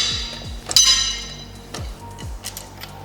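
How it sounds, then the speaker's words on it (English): Metallic clinks and taps with a low rattling thump as car lug nuts on a Nissan Z33 are loosened by spinning the wheel, several short knocks spaced irregularly, close by. "use the momentum of the wheel to loosen it"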